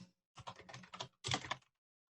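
Two quick bursts of keystrokes on a computer keyboard, clattering close and clear against silence, with a short pause between them and no talk.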